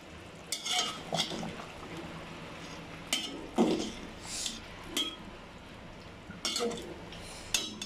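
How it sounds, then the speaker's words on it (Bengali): Beef and potatoes frying in a pot, a low constant sizzle under intermittent stirring strokes and clinks of the spoon against the pot, in bursts roughly every second. "এখন আমি আলু দিয়ে দিব। একটু নেড়ে ছেড়ে দিয়েছি, এখন আরও অনেকক্ষণ কষাবো"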